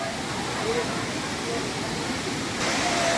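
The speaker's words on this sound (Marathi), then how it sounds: "निसर्गरम्य असा धबधबा आहे." Savdav waterfall in the Konkan hills, a steady, loud broadband rush of falling water that holds without pause, with faint talk underneath.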